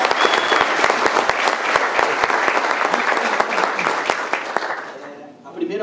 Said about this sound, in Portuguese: Uma salva de palmas para o Pixinguinha